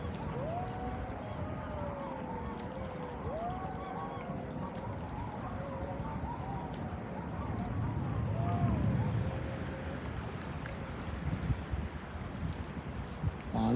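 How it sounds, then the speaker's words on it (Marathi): Jackals howling at night near a creek, a chorus of wavering howls carrying from a distance over a steady background hiss of flowing water. "कोल्ह्यांचा आवाज बघ केवढा येतो"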